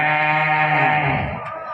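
A human voice imitates a calf's moo, one long drawn-out call that fades at the end, close and loud.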